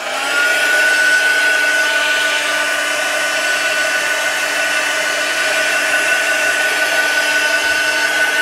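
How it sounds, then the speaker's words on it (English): A heat tool or dryer blows steadily and loudly, drying a thin first layer of paint on mixed media tags, a constant even whir holding for several seconds with no speech. "I'm just going to dry off this first layer"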